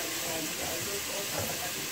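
Curry for a Guyanese-style shrimp and fish dish fries in a pan, producing a continuous broad hiss and crackle at moderate volume with no break.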